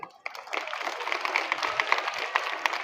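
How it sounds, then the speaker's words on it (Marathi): Schoolchildren clapping together in a classroom, an uneven burst that starts with a few scattered claps and swells into sustained group applause of many small hands, with no talk over it. "टाळ्या वाजवा सगळे."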